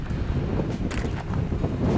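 Gusty wind on open steppe buffets the microphone in uneven rushes, a loud, rough roar that swells and dips.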